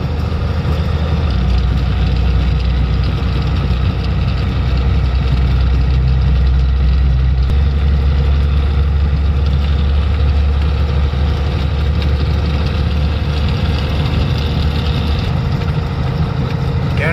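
A manual-transmission car's engine labors steadily up a mountain road alongside slow-climbing loaded trucks, giving a loud, continuous low drone throughout with little change in pitch.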